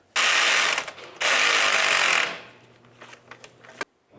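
A ratchet rapidly snugs a bolt on the passenger-side radiator cooling fan of a 1999-2003 Toyota Solara, with two loud, buzzing bursts of fast clicking, then a few slower single clicks and light taps.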